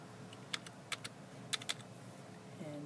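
A few scattered, faint keystrokes as a number is typed on a computer keyboard, isolated clicks over a steady room hum with no voices.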